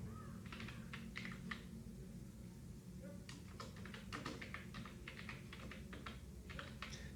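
Quiet computer keyboard typing while entering text into an Excel sheet, bursts of soft key clicks in short clusters over a faint background hum.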